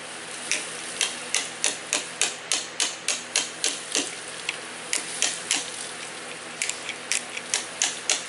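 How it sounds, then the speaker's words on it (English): Wood is trimmed from a mortise to fit a tenon during timber crane assembly: a quick series of sharp, close tapping strikes in uneven bursts with short pauses, no voices. "I'm just trimming off some very small amounts of this mortise here that Carmine made, just to fit the tenon for certain."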